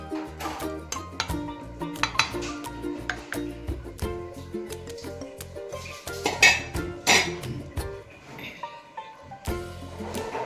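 Gram flour and buttermilk mixture being stirred in a pot for homemade kadhi, with repeated clinks and scrapes of a utensil against the metal, steady and close throughout.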